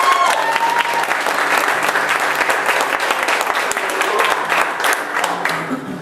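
Loud, sustained applause from a large audience for a country singer fills the space, with scattered cheers and shouts mixed in, tapering slightly toward the end.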